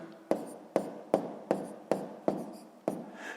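Hand-writing numbers for a sixth-grade math subtraction: a pen taps and scratches on paper in seven evenly spaced short strokes, close and quiet, with no talking.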